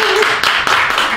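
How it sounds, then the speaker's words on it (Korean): An audience at a Christian praise concert claps, a brief, dense burst of hands, loud and close, lasting about a second. "박수 다시."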